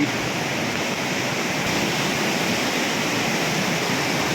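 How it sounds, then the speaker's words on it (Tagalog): Water rushes powerfully through Wawa Dam in a steady, loud, unbroken roar of churning flow, heard alone without any voices. "Mga tubig na dumaragasa po"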